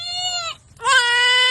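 A goat being disbudded with a hot iron bleats loudly and close by, two drawn-out cries with a brief gap between them. No one speaks.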